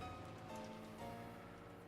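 Steady, soft rain falls in the Umineko no Naku Koro ni visual novel, a quiet continuous patter alone with no voices.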